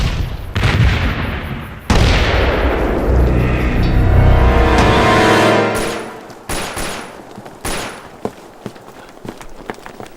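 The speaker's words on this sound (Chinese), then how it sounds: "好像是手榴弹爆炸，枪声也是那边传来的" A battle scene in a war film set during the Battle of Shanghai: a heavy grenade blast rumbles and slowly fades, then sharp bursts of gunfire crack out at intervals. No one speaks.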